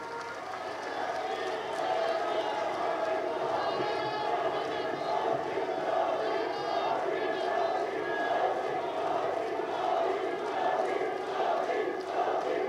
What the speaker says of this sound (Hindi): जोरदार तालियों के बीच